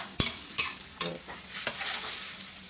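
Zucchini and seasoning are stir-fried in a pan, with soft sizzling under several sharp scrapes and clinks of a utensil stirring against the pan at irregular intervals.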